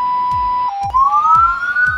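A loud electronic ambulance siren holds a steady wail, breaks off briefly, then returns with a slowly rising tone, alongside faint repeating low thumps.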